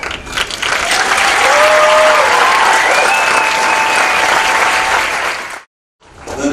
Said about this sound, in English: please join me in a round of applause for the company staff of Company H